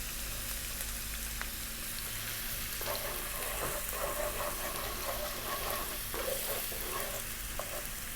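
Onion and garlic fry over high heat in sunflower oil in a skillet, giving a steady, close sizzle with occasional stirring scrapes and crackles.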